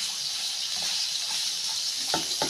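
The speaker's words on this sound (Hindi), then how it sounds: "ये अच्छी तरह से गाजरों को फ्राई कर लूँ।" Carrots sizzle and fry steadily in a pot for pulao, a constant hiss with a couple of soft clinks or stirring knocks near the end and no voices.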